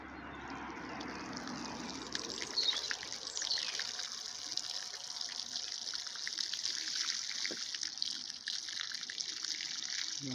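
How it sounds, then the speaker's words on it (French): Freshly sown radish seeds watered outdoors in a garden, a steady, fairly faint hiss and patter of spraying water running continuously with no pauses and no talking. "Allez, petit arrosage."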